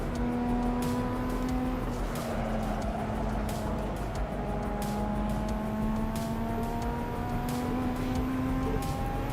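Engine drone of a car in the Assetto Corsa driving game, a steady sustained hum with slowly shifting pitch as it cruises, loud and continuous throughout with faint periodic clicks.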